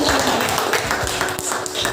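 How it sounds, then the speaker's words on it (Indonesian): Scattered applause from students in a classroom for a classmate who placed first in a physics lesson, a steady patter of claps with some taps and voices faintly underneath. "Beri tepuk tangan kepada Naomi"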